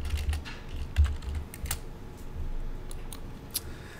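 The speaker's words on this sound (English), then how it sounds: "and then type in EP." Light clicking keystrokes on a computer keyboard in a trading office setting, a sparse run of taps with small pauses, close and fairly quiet with low background hum.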